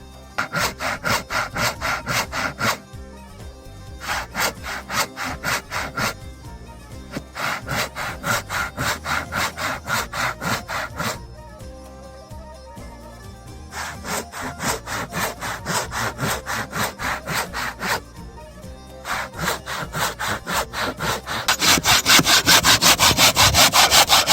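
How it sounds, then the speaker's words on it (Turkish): A hand saw cuts across the top of a wooden piece on a mountain cabin build site, in steady rhythmic back-and-forth strokes with short pauses between runs, close and loud, growing harsher near the end. "Şimdi testereyle bunun üstünü düzgün kesmeye çalışacağız."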